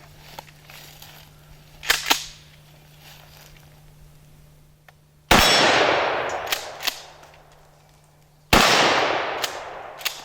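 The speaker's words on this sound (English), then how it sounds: "Should we punch that steel with some buckshot?" Two loud, sharp blasts of Winchester Super X 9-pellet buckshot from a Mossberg 590 Shockwave striking a steel target, each with a ringing decay, a few seconds apart, preceded by fainter metallic clanks.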